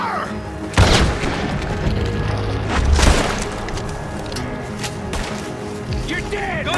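Gunfire in Red Dead Redemption 2 during a town shootout: heavy booming shots at about one second and three seconds, with a rumbling, noisy mix underneath and shouted voices throughout.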